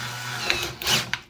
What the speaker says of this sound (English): So if we've got our drill in forward, you can see the chuck tighten.